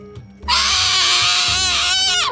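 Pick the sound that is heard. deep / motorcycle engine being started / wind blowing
deep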